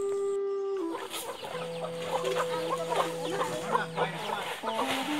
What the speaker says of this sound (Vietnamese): Gà sướng nha các bạn này.